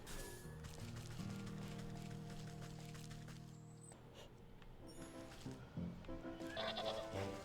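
Dancing sheep bleat in the video game Wytchwood, a sustained wavering cry followed by shorter bleats over light game music.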